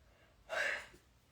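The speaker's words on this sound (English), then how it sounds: "Boy, I have to yawn." A single drawn-out yawn from a woman late at night, one soft breathy swell rising and fading at close range, with no talk.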